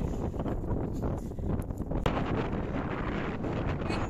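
Wind buffets the microphone in a blizzard on snowy Skiddaw mountain, a dense continuous roaring hiss with gusty flutters.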